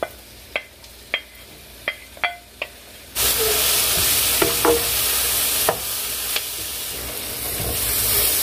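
A few sharp ticks and clinks in a quiet kitchen give way to a sudden loud, steady sizzle as onions hit butter and oil in the pan, with occasional scrapes as they are stirred.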